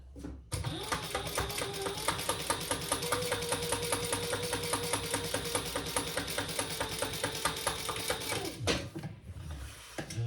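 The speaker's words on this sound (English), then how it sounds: "And then we'll stitch that at 1/8 of an inch." A sewing machine runs a steady row of stitches, a fast even mechanical clatter of needle strokes that starts abruptly, continues close and clear for about eight seconds, then stops.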